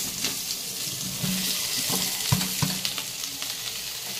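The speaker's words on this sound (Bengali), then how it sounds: "আমি এই সিদ্ধ আলুগুলো এই পেঁয়াজের সাথে দিয়ে দেব। এটাকে একটু ভালো করে নাড়বো।" Boiled potatoes stirred into fried onions in a pan, a soft sizzle under a few scraping and knocking spoon strokes, close by, with a low hum in the background.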